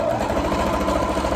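Sewing machine stitching a fabric drawstring bag, a steady close whirring hum with fine rapid mechanical chatter throughout, unbroken and with no voices.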